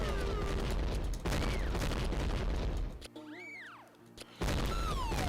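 Rapid, dense bursts of gunfire ring out in the Space Invaders-style video game Pooshooter: Toilet Invaders. The barrage drops out for about a second while rising and falling electronic tones play, then the loud shooting resumes.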